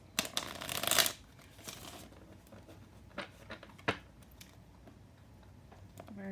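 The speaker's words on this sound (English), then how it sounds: "Give it a few shuffles." Tarot cards are shuffled in a brief loud riffle burst, followed by scattered soft taps and card flicks in a quiet room, with no voices.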